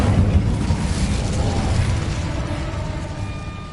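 A fire spell is cast in Hogwarts Legacy as a loud, dense whooshing burst, a continuous roaring rush with crackling texture that slowly eases over a few seconds.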